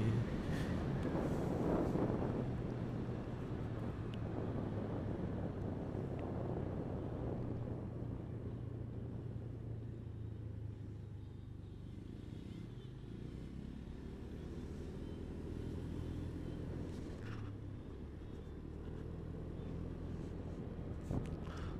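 A Honda Beat scooter ridden at full throttle produces a steady, droning engine note with heavy wind rush across the microphone, holding a constant level throughout with no speech.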